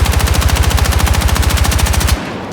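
An automatic weapon fires in the Battlefield 6 testing range, a loud, rapid, evenly spaced burst of about two seconds that stops abruptly, leaving a short fading tail.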